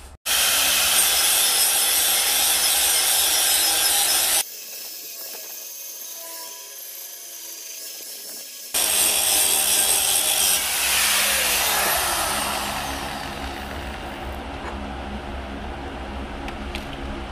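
Power tool grinding on metal while a hydraulic log splitter is built, a loud, harsh, continuous whine that cuts out for a few seconds, then resumes and slowly tapers, with no voices.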